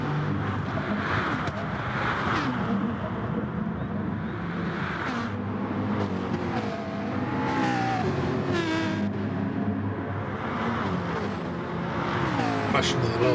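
Race cars in GT Sport at Interlagos, Brazil, roaring and whining as they overtake, engine pitch rising and falling through shifts, loud and continuous, with a commentator talking over it.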